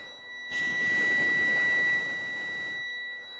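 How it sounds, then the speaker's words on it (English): A steady high electronic tone sounds continuously, with a hissing burst of noise swelling for a couple of seconds underneath before fading out. "It's beeping."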